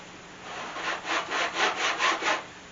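A hand saw rasps against oak at the bottom of a kerf in a weathered slab table, about six short, close scraping strokes in an even back-and-forth rhythm.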